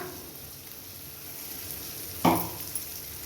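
Ginger garlic paste sautéing in a pan for a coconut milk crab gravy, a steady close sizzle with one louder burst of hissing and scraping midway, with no talking.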